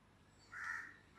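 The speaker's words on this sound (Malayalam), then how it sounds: "കാക്ക കരഞ്ഞു." One crow gives a single, brief caw that is faint and distant against a quiet background.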